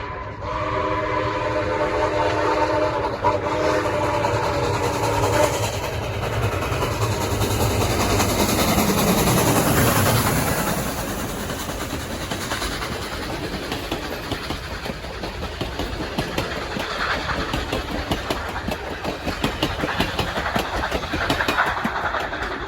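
A Grand Canyon Railway steam locomotive train rumbles past up close near Williams, Arizona, its whistle sounding in a long tonal blast before giving way to steady rhythmic clatter of wheels on rails.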